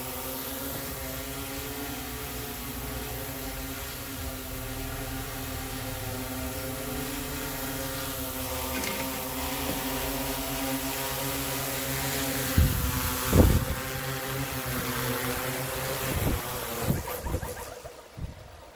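A Yuneec Q500 drone hovers and flies on a test flight, its propellers giving off a steady, even whir throughout. A few louder bumps and gusts come near the end.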